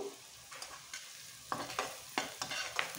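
Onions and turmeric are stirred and fried in a pan for a mixed river-fish curry: a soft sizzle under a run of distinct spatula scrapes, sparse at first, then quicker and louder in the second half, with no voices.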